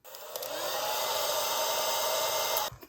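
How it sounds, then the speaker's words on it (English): A hairdryer switched on, a loud, steady blowing whir that starts abruptly, holds evenly for a few seconds, then cuts off. "I'll try to show you what happens when you first turn your hairdryer on."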